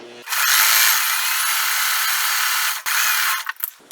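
A sewing machine stitches homespun cotton and muslin quilt fabric with a loud, steady motorized whir for about two and a half seconds. It pauses briefly, then runs again in a few short, uneven bursts.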